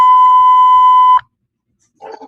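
A loud, steady electronic beep tone holds for about a second, then cuts off into silence before brief faint voices return.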